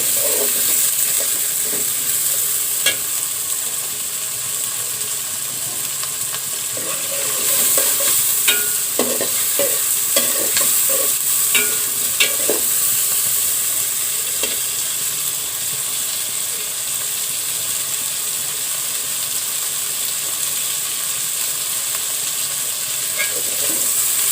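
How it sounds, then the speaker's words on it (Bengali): Prawns and onion frying in mustard oil, a steady close sizzle with scraping stirs and clinks of a spatula against the pan, busier in the middle stretch. "আমি পেঁয়াজও দিয়ে দিচ্ছি, সরিষার তেল ও চিংড়ি মাছ একটু তেলে ভেজে নিচ্ছি।"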